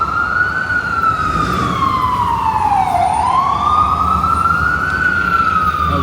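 An ambulance siren wails loudly and continuously, its pitch sweeping down and back up, over a dense rumble of city traffic on 6th Avenue in New York City.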